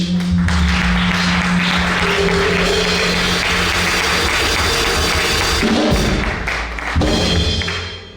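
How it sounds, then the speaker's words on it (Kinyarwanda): Church congregation applauding loudly and continuously, with heavy thumps and a low drone underneath, fading toward the end. "Reka tumukomere amashyi menshi"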